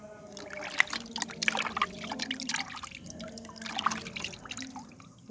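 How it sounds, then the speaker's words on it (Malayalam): Water poured from a small bucket to rinse a submersible water pump, heard as irregular splashes, drips and trickles close up, with a few louder spills and quieter dribbling between them. "ഇതേപോലെ ചെറിയൊരു ബക്കറ്റിലോ എന്തെങ്കിലും വെള്ളം എടുത്ത് നമ്മൾ ഇതേപോലെ ക്ലീൻ ചെയ്ത് കൊടുക്കുക."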